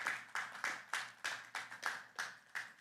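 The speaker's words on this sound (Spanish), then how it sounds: "Vamos a dar un fuerte aplauso a nuestro Dios." A church congregation claps in unison, giving about nine sharp, evenly spaced collective claps in a steady rhythm, heard faintly from a distance with no talking.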